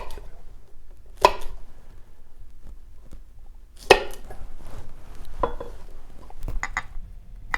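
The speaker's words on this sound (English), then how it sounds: "each half I'll cut into thin julienne strips" A knife strikes a cutting board in a few sharp, separated chops as aubergine is cut into thin julienne strips, close and crisp with quiet pauses between cuts.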